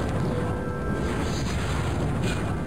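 A fireball shot by a Rictus, a floating spiked skull-on-a-spine monster in The Iron Plague video game: a loud, sustained roaring blast with a rumbling low end that holds steady for nearly three seconds.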